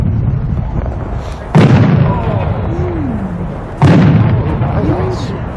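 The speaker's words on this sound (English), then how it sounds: "It's a 6-inch 3-break of gold glitter with green centers and a bottom shot" A 6-inch three-break firework shell of gold glitter with green centers and a bottom shot bursts at a winter fireworks show. Two loud booming reports roll out, each followed by a long crackling decay, under steady crowd noise.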